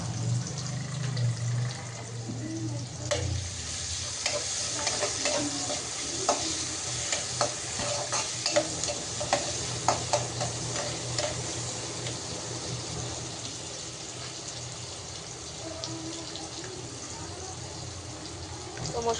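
Curry sizzling in leftover fish-frying oil in a pan, stirred steadily with a spoon, with scraping and stirring clatter over a continuous close frying hiss.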